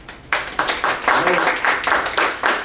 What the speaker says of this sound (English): He says round of applause